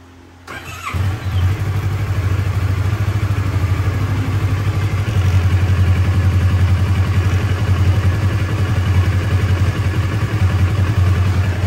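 A motorcycle engine catches after a brief crank and settles into a steady, loud, close idle with an even throbbing rhythm.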